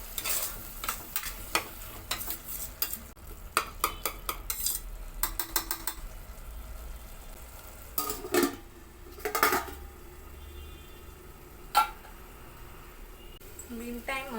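Mutton gravy stirred in a cooking pot with a spoon, giving repeated scraping and clinking strokes over a steady sizzle, some bursts sharper than others, while a voice talks now and then.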